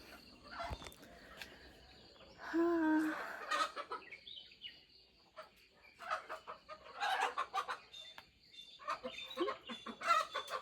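Chickens fight, clucking and squawking agitatedly in close, loud bursts, with flurries of scuffling and wing noise between the calls.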